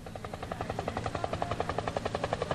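Military helicopters flying in an army air display, including a UH-1H utility helicopter and Cobra attack helicopters, give a steady, loud rhythmic rotor chop over a continuous engine whine, heard alone without talk.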